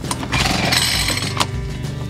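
A backpack leaf blower, roughly ten years old, runs with a loud, steady two-stroke engine drone close by. The pitch holds fairly even, with a couple of brief sharp clatters on top.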